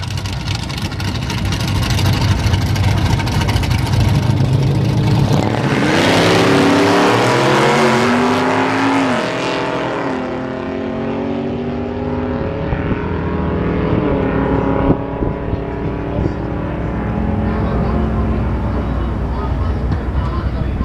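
Drag race on a quarter-mile strip between a 1993 Chevy truck and an orange 1971 Camaro: a loud, sustained engine roar with rising gear-change sweeps that climbs, peaks and then fades as the cars pull away toward the top end.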